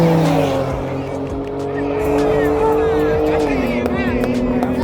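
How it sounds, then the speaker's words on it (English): A BMW X3 M Competition and a BMW M4 drag racing, engines roaring loudly with a steady rising drone and a shift-like drop in pitch near the end, with a voice talking over the noise. "The next drag race is going to be really exciting because it's a BMW X3M competition versus a BMW M4 40i."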